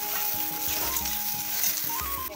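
Pointed gourd frying in a pan for a Bengali fish curry with vegetables, with a steady, close hiss of sizzling oil broken by recurring scrapes and clinks of stirring. No one speaks.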